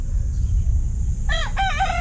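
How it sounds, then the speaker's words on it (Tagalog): A rooster crows loudly and close by, one cock-a-doodle-doo rising out of steady low background rumble near the end of the moment. "itong mga manok na to"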